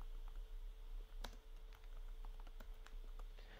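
Keystrokes clatter on a computer keyboard while code is entered, a quick irregular run of light clicks over a steady low hum, with no one talking.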